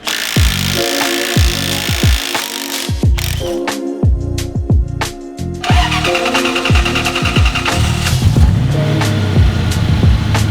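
Supercharged drift truck engine cranking over and firing up, a loud stuttering series of strong combustion pops and crackles settling into a rough, busy idle with a rising whine, close and alone.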